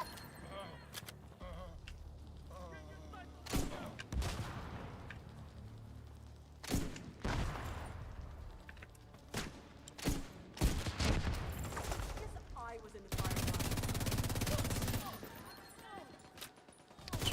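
Scattered bursts of gunfire in a shooter video game firefight, sharp shots and rapid volleys coming in irregular clusters over a busy background, with a person talking throughout.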